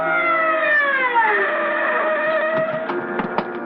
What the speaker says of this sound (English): The siren gouges a path through the city swiftly like a wild saw trailing across the dark.